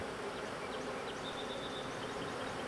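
Bees at an open hive buzz steadily and close, a dense continuous drone of many insects with no talking.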